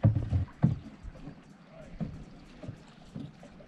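Canoe paddling across an inlet on the Bibbulmun Track: soft splashing paddle strokes and water swirls at an irregular rhythm, close and fairly quiet, with light wind and faint background voices.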